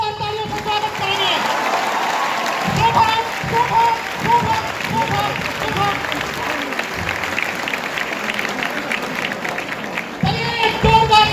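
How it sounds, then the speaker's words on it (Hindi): Loud, sustained audience applause fills a hall welcoming Shubham Kumar, UPSC Civil Services 2020 rank 1 topper, at a toppers' talk event, with crowd noise and some voices mixed in. "चलिए समस्तीपुर शुभम जी का जोरदार तालियों से स्वागत करेंगे।"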